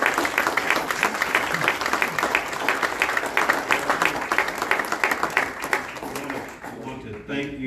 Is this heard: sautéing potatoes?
no